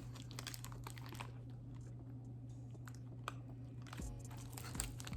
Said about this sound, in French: le pain, genre bien croquant, croustillant